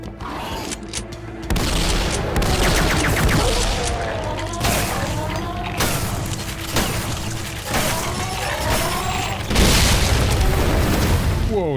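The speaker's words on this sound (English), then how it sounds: "Oh no, it's just that big of an explosion." Heavy explosions and rapid gunfire from the 1996 video game Duke Nukem 3D: loud booming blasts and crackling shots roll on continuously, layered with shattering debris and dense, sustained game noise.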